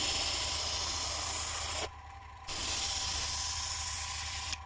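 A Gaahleri Mobius trigger airbrush sprays in a steady hiss that stops briefly for about half a second, then resumes and continues to the end.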